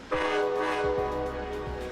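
A train bound for a historic wilderness lodge in Montana sounds a loud, sustained multi-tone horn blast that holds steady for the whole two seconds, with rumbling underneath and no talking.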